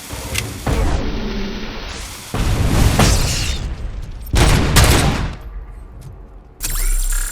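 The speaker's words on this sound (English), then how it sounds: "Grenade launcher. Get cover." Heavy explosions and bursts of gunfire from grenade launcher attacks in the Robocop video game, coming as several loud booming blasts spaced a second or two apart, each followed by a rumbling tail.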